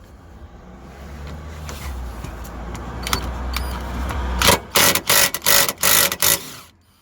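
Anti-roll bar linkage being undone on a Toyota Prius. Rustling and scraping build up, then a series of loud, rapid rattling bursts from a power tool, repeated about five times.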